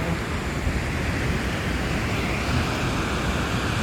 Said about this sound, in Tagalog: Ito yung maliit na falls.